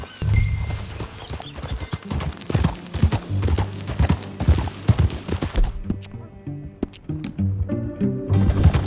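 A horse's hooves clip-clop in a steady rhythm while riding in the video game Red Dead Redemption 2. Music plays underneath and there is a brief pause near the end.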